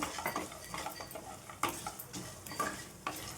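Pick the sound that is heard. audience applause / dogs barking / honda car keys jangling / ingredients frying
ingredients frying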